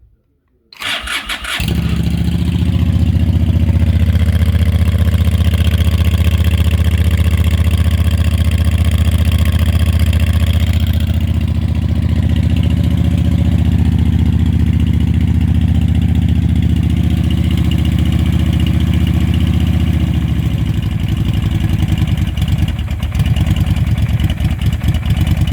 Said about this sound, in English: Let's see if the starter will engage here.